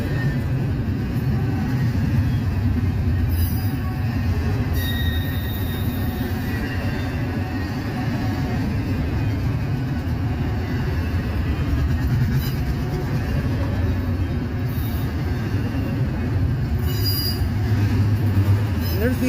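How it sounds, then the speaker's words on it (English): A passing freight train on a line in Logan County, Ohio rumbles steadily for the whole stretch, with wheel noise and occasional high squeals, loud and continuous. "There's the end of train."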